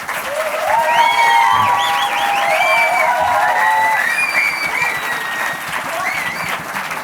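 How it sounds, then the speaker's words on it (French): A large audience at the 19th Brive film festival award ceremony applauds its general delegate, steady loud clapping with some cheering and whistles, continuing throughout without a break. "je vous demande d'applaudir notre délégué général"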